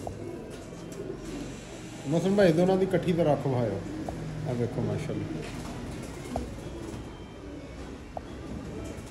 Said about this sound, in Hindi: लो जी दोस्तों ये भी ब्रांड लेवल दा कबूतर है